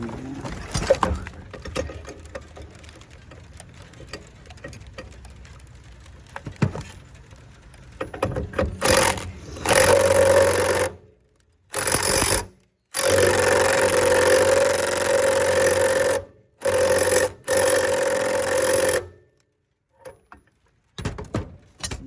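A power drill runs in repeated loud bursts, straining and whining on a stuck bolt with short pauses between attempts, close up after some quieter handling noises, outdoors in rain.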